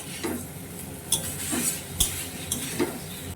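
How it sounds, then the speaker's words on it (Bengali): A spoon scrapes and knocks against a pan as fried potato and elephant foot yam are stirred through masala, several distinct strokes over a low sizzle, close by with no voices. "মশলাটা দিয়ে এটাও ভালো করে নাড়াচাড়া করে নেব।"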